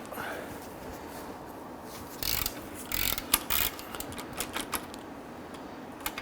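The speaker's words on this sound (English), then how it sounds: "There's two 15mm bolts. You can use a breaker bar. Sometimes you can use your ratchet." A ratchet works on the 15mm caliper bracket bolts of a 2006–2010 Hummer H3 during a rear brake job. Short bursts of fast, close mechanical clicking come in irregular runs.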